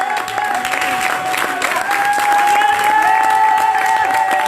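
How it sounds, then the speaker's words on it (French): A church congregation applauding steadily during a French-language worship service, with crowd noise and a sustained tone running throughout at a fairly loud, even level. "Acclamons Jésus."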